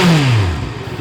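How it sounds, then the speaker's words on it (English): A Honda CB650R motorcycle engine gives a low, bassy rev that rises and then falls back toward idle, loud and close with no voices. "At idle, you can see it's a low, bassy, grunty rev."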